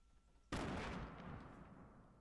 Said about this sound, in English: Who's throwing nades?